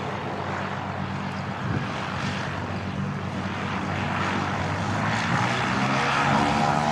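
Propeller aircraft engine drones steadily at Christchurch airport, a continuous loud hum and roar that swells slightly as the plane nears, with no talking over it.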